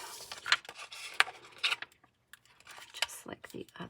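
Transfer tape rubbed down over vinyl lettering with a burnishing tool, a series of close, short scraping strokes in uneven bursts with a brief pause in the middle, and a quiet voice underneath.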